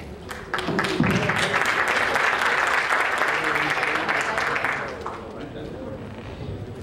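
Dense audience applause at a medical talk on preterm birth screening, loud and sustained for several seconds before it fades out, with faint voices beneath.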